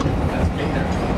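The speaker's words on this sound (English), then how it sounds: "It's just me riding the Amtrak train" An Amtrak passenger train running on rails between Olympia and Portland, heard from inside as a steady rumbling roll with faint rhythmic clatter, loud and continuous.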